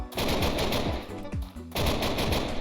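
Rapid bursts of automatic gunfire and pistol shots from a zombie apocalypse Minecraft game, loud and close with repeated rattling volleys and a brief pause midway.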